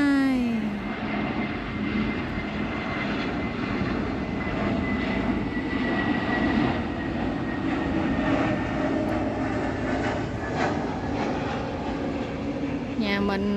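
A Vietnam Airlines passenger plane descends overhead, its engine roar steady and loud across the whole stretch, with a brief voice at the start and end over rural garden surroundings.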